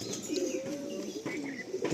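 Madrasi and giribaz pigeons coo in a close, continuous rolling murmur with faint chirps, the birds heard alone for a brief moment.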